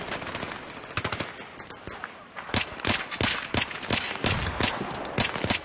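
Battlefield 3 gameplay with M5K and other weapons firing: bursts of rapid gunshots, dense and punchy, some bunched into quick volleys, others spaced apart, loud and close with no talk.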